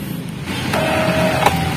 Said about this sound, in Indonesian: Kita coba di head cleaning secara manual dari printernya.